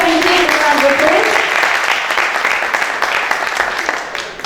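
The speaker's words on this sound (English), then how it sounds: "give a round of applause" A school audience at a year 5 class performance gives a dense round of applause that fades slightly toward the end, with voices mixed in.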